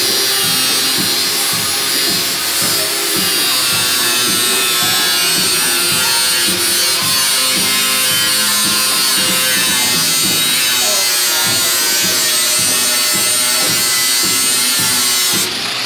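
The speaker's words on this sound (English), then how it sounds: "the front panel there is connected and you need to grind down the side to be able to remove it" An angle grinder cuts along the edge of a car's front body panel in a barn workshop, a loud, steady, high-pitched whine that holds close and continuous throughout.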